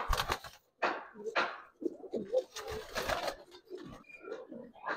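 Old-bloodline big-headed giribaz pigeons cooing close by, a series of throaty, rhythmic coos and rustles coming in short bursts, fairly loud, with no voices.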